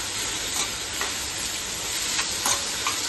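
Curry masala sautéing in a pan for brinjal chutney, a steady hiss of frying broken by a few soft stirring clinks, moderately quiet throughout.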